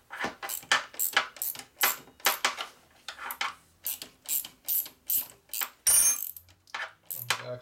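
Ratchet wrench clicking in repeated bursts while turning a bolt on a Harley Sportster 650 single under rebuild, close and loud with brief pauses between strokes.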